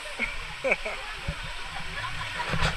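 Steady rushing water from Taytay Falls in Majayjay, Laguna, forms a constant hiss beneath nearby voices talking and calling out.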